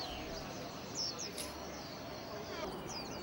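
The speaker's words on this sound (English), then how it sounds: "listening to the songs of the birds" Pet songbirds kept by elderly bird keepers at an outdoor gathering give a few faint, high chirps and short trills, partly masked by steady background crowd noise.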